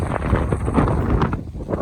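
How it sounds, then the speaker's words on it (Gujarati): Strong wind gusts buffet the microphone in a rough, uneven roar, rising and falling over a couple of seconds with no talking. "પાછો પવન ઉપડ્યો છે"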